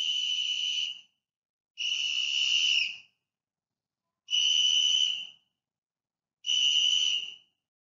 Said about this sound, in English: He was so happy that he blew the whistle.